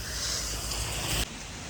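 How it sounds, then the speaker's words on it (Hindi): Heavy rain pouring down outdoors, a steady broadband hiss that runs loud and constant, then drops to a quieter, more muffled wash partway through. "तू तो बंद हो, अभी बड़ी बारिश हो गई।"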